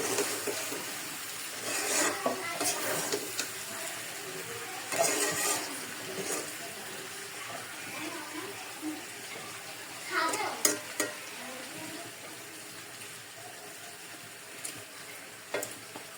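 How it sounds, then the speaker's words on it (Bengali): A spatula stirring pui shak seed curry in a pan, with bursts of scraping and sizzling spread over a quiet, faint frying background, close by. "এখন একটু নাড়া দিয়ে নাড়াই ফেলবো।"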